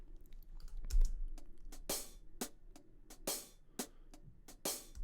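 Drum machine hi-hat samples from Addictive Drums, low pitched with plenty of stick noise, ticking in a quick, uneven rhythm of crisp short hits, some brighter and more open, fairly quiet and isolated.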